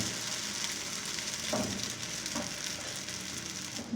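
Omelette paratha batter fries in oil on a pan, a steady close sizzle with a couple of brief scraping touches, no talking.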